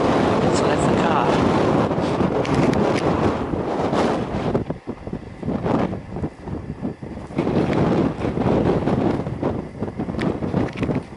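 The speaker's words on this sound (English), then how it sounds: "it's very blustery and windy, but I got the sponge on" Strong gusts of wind buffeting the microphone in heavy, roaring rumbles that rise and fall, with a voice speaking faintly underneath.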